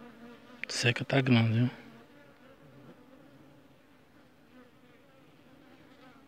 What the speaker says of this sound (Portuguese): As abelhas tomaram de conta de tudo aqui, ó.